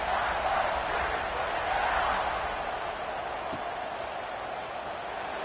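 A stadium crowd at an Ohio State football game gives off a steady, distant roar that stays broad and even without sharp peaks, then eases slightly toward the end.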